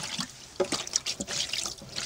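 Water splashes and trickles as it is scooped out by hand from the bottom of a garden pond basin being emptied for winter, with irregular small splashes and drips, faint and close.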